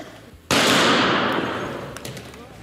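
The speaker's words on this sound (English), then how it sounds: "The men point guns with laser sights at each other and shoot" A single sharp gunshot blast during a bullet-catch magic stunt, loud and close, followed by a long decaying echo.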